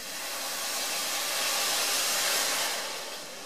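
Milk and flour mixture poured into a hot pan with shallots and garlic for creamed spinach with mushrooms, giving a steady hissing, steamy sizzle that swells toward the middle and then eases, with no voices.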